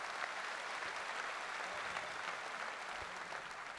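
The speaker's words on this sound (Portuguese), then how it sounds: "Uma salva de palmas ao Vitor Espadinha" Audience applause at a comedy roast fills the room with steady, dense clapping from start to finish, fairly quiet overall and with no voices over it.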